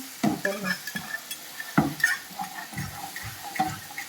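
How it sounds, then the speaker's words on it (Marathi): Caramel sauce being stirred in a pan, with scraping spoon strokes and soft bubbling in bursts at an irregular pace, close and fairly quiet, no talk. "हे ज्यावेळेस कंटिन्यू स्टर कर, कंटिन्यू स्टर कर।"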